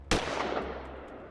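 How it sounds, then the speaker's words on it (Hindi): A single loud gunshot, fired by attackers on a motorbike, cracks sharply and then fades into a short outdoor echo. "हर 1 सेकंड पर एक गोली निकल रही है। लगातार 3 गोलियां"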